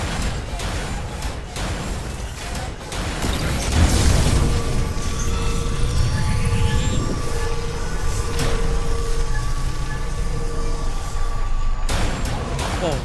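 Barricades blown apart in the Dead Space Remake: a heavy boom lands around the middle, followed by a sustained roaring rumble and mechanical hum, with sharp clanks at either end.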